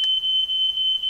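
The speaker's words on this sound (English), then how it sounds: "And the alarm went off in the kitchen" A smoke alarm goes off in a kitchen, giving a piercing, steady high-pitched electronic tone that holds unbroken and loud throughout.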